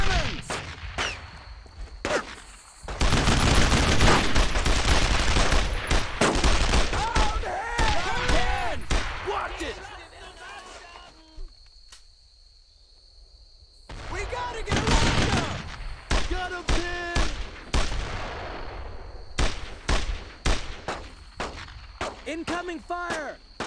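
Heavy gunfire and explosive bursts from the World War II game Brothers in Arms: Road to Hill 30 come in loud, sustained volleys with a brief lull, while soldiers shout over the battle.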